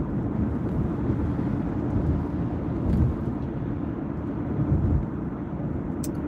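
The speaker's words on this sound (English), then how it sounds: "a little bit of wind" Steady low rumbling wind buffeting the microphone during a 13-degree electric car drive home toward Orkney, a constant broadband roar with a few stronger gusts and no talking.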